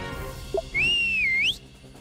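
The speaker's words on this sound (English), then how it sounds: "And whistle the old man over." A whistle in the video game Druidstone, given to call an old man over: one rising and falling whistled note held about three-quarters of a second, loud and clear over a low background hum.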